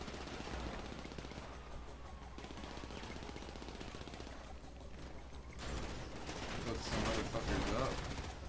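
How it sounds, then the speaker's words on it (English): Advanced shotgun fire in the online game GTA Online: repeated loud blasts over a busy game soundscape, growing denser and louder toward the end, with a voice talking at points. "Advanced shotgun is fucking amazing."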